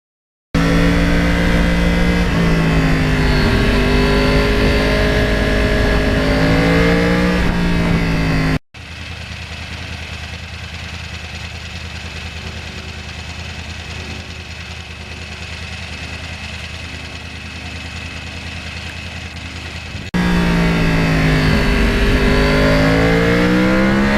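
A 2009 Yamaha R1 crossplane motorcycle engine revs hard at close range and climbs to a high scream. It drops to a lower steady drone for a stretch, then the loud revving returns.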